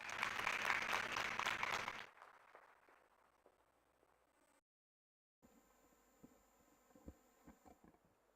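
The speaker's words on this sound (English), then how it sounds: "Let's welcome him with a round of applause." Audience applause at an official signing event between Adani Enterprises, IHC and the Odisha government, a dense burst of clapping for about two seconds that quickly fades to sparse, faint claps and room hum.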